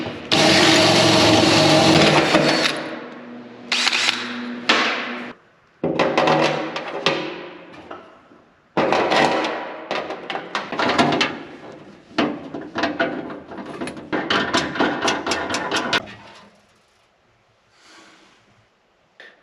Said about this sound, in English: so I'm gonna drill a couple holes real quick and get these installed.